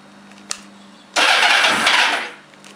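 A 2000 Kawasaki ZR-7 motorcycle engine starts up in a garage, a faint tick followed by a sudden loud catch and roaring run that holds steady for over a second before easing off.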